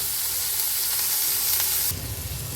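Chicken stew ingredients sizzle and hiss loudly in a hot pan as they are stirred, a dense close frying noise whose tone shifts abruptly near the end as the stirring changes.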